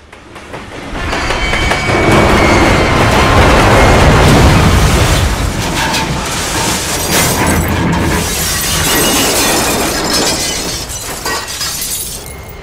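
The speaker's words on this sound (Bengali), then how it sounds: "হঠাৎই বিকট আওয়াজ, মালগাড়ি আর গানেশ্বরীর সামনাসামনি ধাক্কা।" A loud, sustained crash of screeching metal and shattering debris rumbles on for several seconds, a head-on collision between a goods train and the Jnaneswari Express, with no voices.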